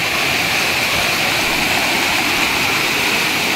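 A river near Hebri rushes past in a loud, continuous roar of churning water, a dense unbroken wash close to the listener with no voices.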